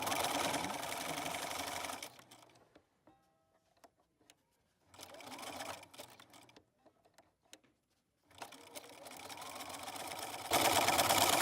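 A sewing machine runs an embroidery stitch in three loud bursts of fast, even whirring. Quiet gaps between the bursts hold faint clicks and handling noise.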